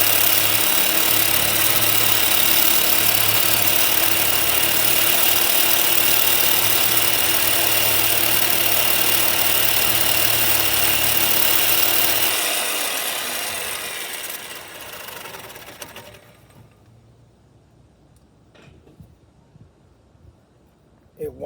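Power tool blade cutting through a ball joint on a 2007 Jeep Liberty, a loud steady grinding whine for about twelve seconds that then winds down and fades to near silence.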